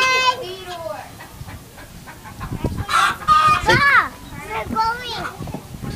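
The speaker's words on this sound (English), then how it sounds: "Oh, the little rooster." A small rooster at a petting zoo clucks and squawks in several close, loud bursts while children and adults talk nearby.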